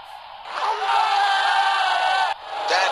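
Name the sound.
crowd cheering in Real Cricket 2020 video game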